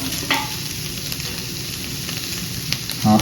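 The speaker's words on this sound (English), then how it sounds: "I'm going to add the capsicum as well. The chili." Chopped capsicum and chili hit a hot, oiled pan while cooking a chicken crepe filling, giving a steady close-up sizzle and crackle with a brief clatter of utensil against the pan near the end.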